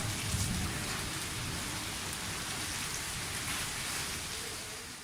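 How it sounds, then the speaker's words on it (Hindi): Steady, dense rain falls outdoors in a continuous hiss that stays loud and even throughout, with a faint low rumble underneath and no voices. "आज हो रही है बारिश, तो मौसम माशाल्लाह से बहुत ही प्यारा हो गया"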